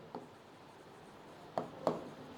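Marker or chalk strokes on a classroom board come in three brief scratchy taps, faint and spaced apart against a quiet room hum, with no voices.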